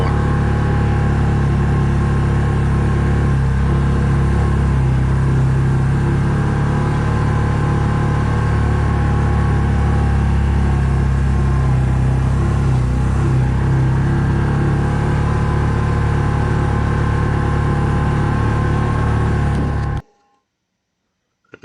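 Engine drone of a 2011 Can-Am Commander 1000 side-by-side on a short ride, steady and continuous for about twenty seconds with no talk, then cutting off abruptly.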